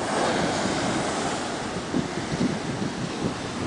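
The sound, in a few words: Atlantic Ocean waves breaking on the beach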